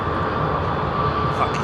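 An Airbus A300 jet at London Heathrow, a steady broadband engine roar, loud and continuous across the short stretch, with no clear change in level.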